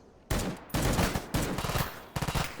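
Loud, close bursts of automatic rifle fire from the shooter game S.T.A.L.K.E.R. GAMMA crack out in four rapid volleys, each a quick string of shots, with no talk over them.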